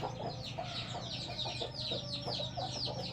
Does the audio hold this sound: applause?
no